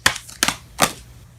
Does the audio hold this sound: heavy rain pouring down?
no